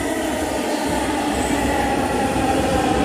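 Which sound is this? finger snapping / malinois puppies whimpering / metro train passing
metro train passing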